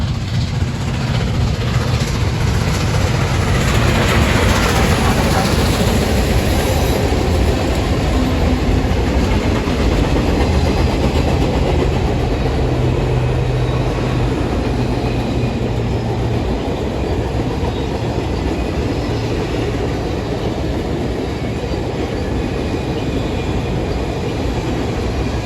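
The CP Empress train, led by SD70ACU 7013 and FP9A units 1401 and 4107, rumbles past close by with a steady, loud roar of wheels, clickety-clack and diesel engine noise that continues throughout.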